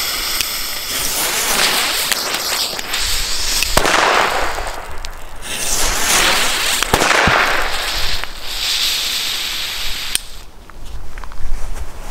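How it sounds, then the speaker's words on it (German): A Blackbox Domschleuder premium firecracker goes off outdoors with a loud, sustained fizzing hiss lasting about twelve seconds. Several sharp cracks punctuate it, and no voices are heard. "So, machen wir jetzt hier mal noch die Blackbox, hier diese angeblichen Premium-Böller."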